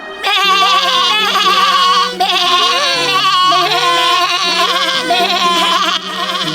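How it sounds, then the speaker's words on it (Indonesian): Several high, wavering goat-like bleats overlap continuously over a steady low musical drone, loud and close throughout. "Mendengar suara dari kambing kecil, serigala itu langsung menghampiri."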